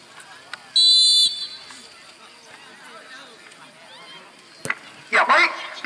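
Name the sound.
referee's long whistle blown to start the second half of a football match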